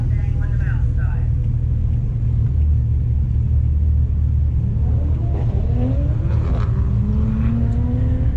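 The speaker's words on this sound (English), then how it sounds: "We have Chris Brocious in his 2020 Supra on the tower side, and Christian Dana 2011 Mustang on the mountain side." At South Mountain Raceway, a 2020 Supra and a 2011 Mustang idle with a deep, steady low rumble, then an engine climbs in pitch as it revs, with a voice talking over the noise.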